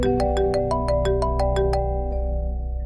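A phone ringtone chimes in a steady run of bright repeated tones, loud and close, ringing for several seconds with no one speaking over it.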